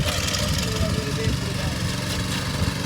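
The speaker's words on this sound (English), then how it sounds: "As he pulls the auger out." A power auger bores a fence post hole for a privacy fence in a townhome subdivision, its engine droning loud and steady throughout, with voices talking over it.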